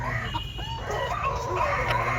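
Several native Kerala chickens, including short-legged breeds, cluck nearby in short, uneven bursts over a low background hum.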